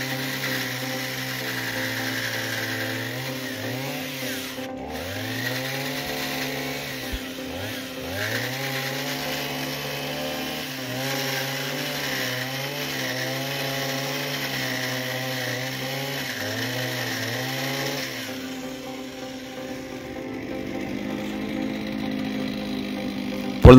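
A Husqvarna 236R brushcutter cuts into a tree trunk from the opposite side outdoors, its small two-stroke engine droning steadily near the mic with repeated rises and dips in pitch as the blade bites, then idling down at the end.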